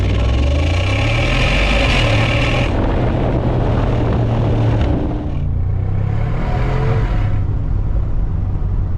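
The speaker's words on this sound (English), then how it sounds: "You get an extremely nice sound feedbacks coming from the side pipes" Mercedes G63 AMG V8 rumbling through side-exit exhaust pipes during a 2025 facelift drive, a loud, steady low engine drone with shifts in pitch as the revs rise and fall, heard from inside the cabin.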